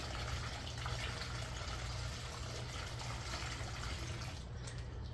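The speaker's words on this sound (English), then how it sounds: "You're just going to fill the bag with water." Water pours into a PuriBag water bag, a faint, steady rushing and gushing with a low rumble beneath it, heard alone.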